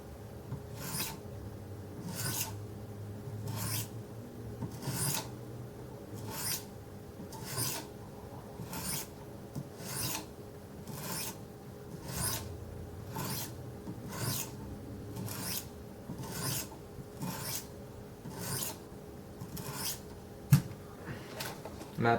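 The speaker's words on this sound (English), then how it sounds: "Lightly place the stone on the blade" Wicked Edge sharpening stone, 400 grit, drawn lightly along a knife blade in evenly spaced strokes, a soft repeating scrape over a faint background hum.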